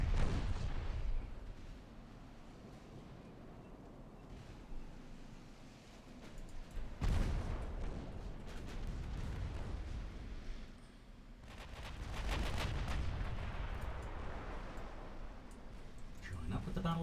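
Naval gunfire in the video game Ultimate Admiral Dreadnoughts, with a battleship and cruiser trading armor-piercing rounds: heavy booming salvos and rumbling blasts that rise and fall in clusters under a steady low battle drone.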